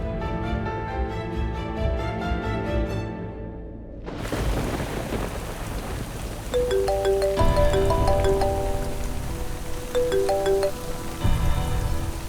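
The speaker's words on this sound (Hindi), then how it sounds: "बारिश बहुत हो रही है यहाँ" Heavy rain pours in a constant roaring hiss, with a low rumble of thunder. A phone ringtone melody plays over the downpour.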